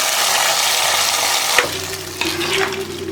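Raisins frying in a pan for sweet pongal give a steady close sizzle, broken by a couple of sharp stirring clinks and scrapes partway through.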